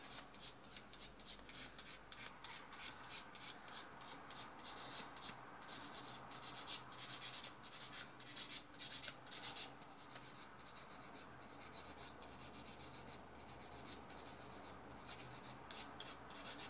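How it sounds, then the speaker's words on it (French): A nail file rasps back and forth across an acrylic nail capsule in quick, even strokes, a close, dry scratching that runs steadily with no voices. "vous limez bien l'ongle"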